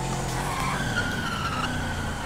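Tires skid on a truck in GTA V, a continuous loud screech over a rumbling engine. The sound holds steady and close throughout.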